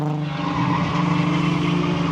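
Drift car sliding around a corner at Road America, its engine holding a steady high droning note with a tire skid, loud and close for a brief moment.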